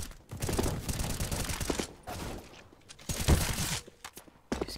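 Gunfire in Counter-Strike: Global Offensive comes as rapid bursts of shots, loud and dense in two main clusters with a brief lull between them and a final short burst.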